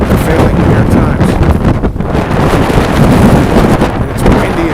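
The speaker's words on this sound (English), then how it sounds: "And it's windy as hell." Strong wind buffets a microphone outdoors on a New York street on a snowy, stormy day, a loud, continuous roaring rumble with gusty surges throughout.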